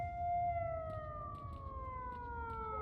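Looping siren in the video game STALKER: Shadow of Chernobyl, several steady high tones sliding slowly downward over a low rumble, faint and distant, with light clicks behind it.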